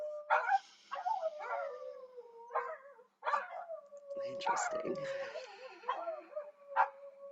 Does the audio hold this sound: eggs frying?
no